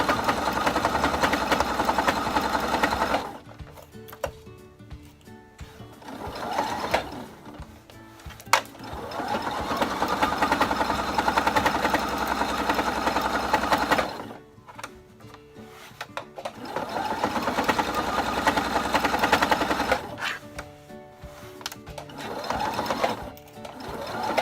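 A sewing machine stitching fabric around curves for a coffee cozy, running loud and close in long steady bursts separated by short quieter pauses where the fabric is turned, no talk over it.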